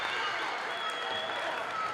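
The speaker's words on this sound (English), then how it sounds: "Crowd erupting." At a girls high school basketball game, the gym crowd bursts into steady cheering and applause. The noise is a dense, continuous wash that stays loud throughout.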